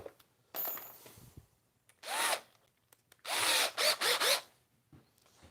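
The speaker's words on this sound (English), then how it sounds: "Put our screws in there. But I better put the screwdriver bit in first." A power screwdriver drives screws into a Darth Vader TIE Fighter model, heard as a few short, close whirring bursts: one brief burst, then a longer run broken into several quick pulses, with faint handling noises between them.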